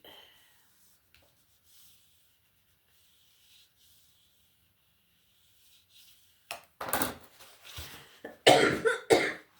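After several seconds of near silence, a few harsh coughs burst out close by, in quick clusters.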